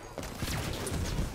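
A plasma caster fires in Halo 5, a couple of quick sharp blasts with whooshing streaks in a short busy burst, fairly close.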